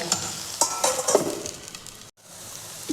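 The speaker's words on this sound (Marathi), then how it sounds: "बारीक गॅसवर कांदा जरा परतूया" Onion being sautéed in a pan over low gas for a spicy Maharashtrian sandgi vegetable dish, giving a soft close sizzle broken by a few scraping stirs before a short quiet gap, with no voices.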